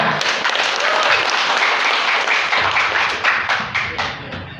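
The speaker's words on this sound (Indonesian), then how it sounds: "Tepuk tangan untuk Bapak Bupati kita." An audience at a social aid handover event claps to welcome the regent, a loud, dense round of applause with some distinct sharp claps and voices underneath, gradually thinning toward the end.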